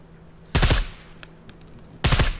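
Two short bursts of automatic rifle fire in the game Scum, each a loud cluster of rapid shots about a second and a half apart, with near silence between them.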